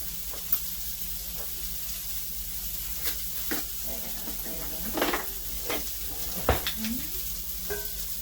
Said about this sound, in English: Just going to stir that around there